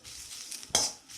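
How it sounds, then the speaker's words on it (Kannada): Curry leaves sauté in a little oil, giving a soft, airy sizzle that flares into a brief sharp crackle and stir, then settles back to a quiet hiss. "ಸ್ವಲ್ಪ ಎಣ್ಣೆನಲ್ಲೇ ಒಂಚೂರು ಬಾಡಿಸ್ಕೊಂಡ್ರೆ ಚೆನ್ನಾಗಿರುತ್ತೆ"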